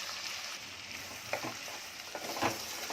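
Finely chopped onion going into hot desi ghee, frying with a steady low sizzle and a few soft stirring scrapes of a spoon, heard alone with no talk.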